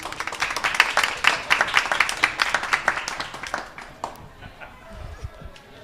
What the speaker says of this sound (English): Another round of applause for Toby.